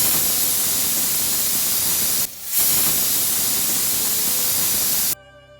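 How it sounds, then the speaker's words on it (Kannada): A pressure cooker cooking avarekalu rice vents steam in a loud, continuous hiss that drops out briefly, resumes, then cuts off abruptly near the end. "ಎರಡು ವಿಸಿಲ್ಲು ಸಹ ಆಗಿದೆ, ಕುಕ್ಕರು ಆರಿದೆ"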